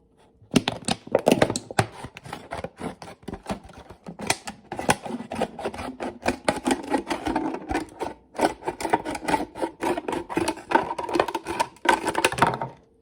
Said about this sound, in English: You're going to cut the bottom off your bottle.